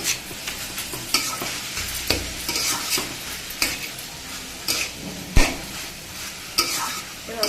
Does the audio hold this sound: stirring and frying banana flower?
yes